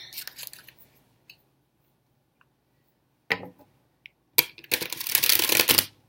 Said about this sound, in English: I am going to shuffle the cards again.